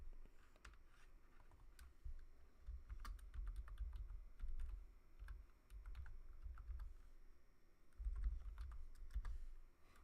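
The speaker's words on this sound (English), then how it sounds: "I got a small keyboard" Typing on a small computer keyboard, a continuous run of close, quiet key clicks with uneven rhythm and brief pauses.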